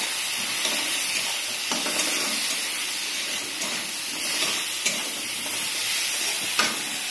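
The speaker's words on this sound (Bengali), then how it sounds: "লঙ্কাও দিয়ে দিয়েছি এর মধ্যে, এটা ভাজা হচ্ছে।" Peas and potatoes with salt, turmeric and chili fry in a pan, giving a steady, fairly loud sizzling hiss that runs throughout, with a few faint stirring clicks and no talking.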